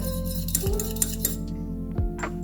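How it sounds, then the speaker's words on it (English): Scented candle wax is stirred in a container, with clear clinks of a utensil knocking the sides over a steady low hum, several light taps spaced through a couple of seconds. "Just going to add the scent. Stir it well."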